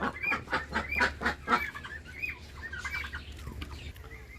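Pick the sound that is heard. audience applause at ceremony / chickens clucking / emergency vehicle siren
chickens clucking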